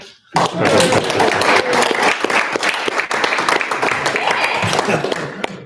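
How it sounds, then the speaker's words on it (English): Enthusiastic audience clapping for a speaker at a college lunch talk, starting abruptly and staying loud and dense throughout, with crisp close claps and some voices mixed in. "Now you can clap for me."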